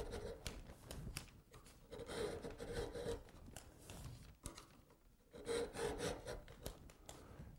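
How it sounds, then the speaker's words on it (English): A hand file rasps across the teeth of a float being sharpened, a steady run of close, scraping back-and-forth strokes with brief pauses between passes. "we're also filing the face of the next tooth as we do that"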